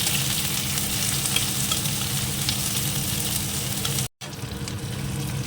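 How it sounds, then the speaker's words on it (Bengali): Onions sizzle and fry in a hot pan at a Bengali home meal before a wedding, a continuous close hiss with a brief break near the end, no voices. "একটু পেঁয়াজটাকে ভেজে নিই।"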